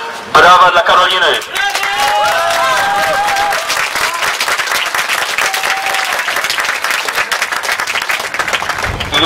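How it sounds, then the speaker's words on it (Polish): A crowd at a university protest gathering breaks into loud, sustained applause mixed with cheers and shouting voices, dense and close throughout. "Brawa dla Karoliny!"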